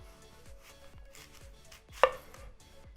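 A knife chops unpeeled Honeycrisp apples into chunks on a cutting board, about six evenly spaced close taps with one sharper, louder hit near the end, no talk.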